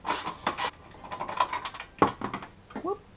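Socket wrench loosening a 12mm bolt on a Subaru WRX during an intake install; a string of close ratcheting clicks and metallic scrapes, uneven in rhythm, with brief tool knocks and no speech.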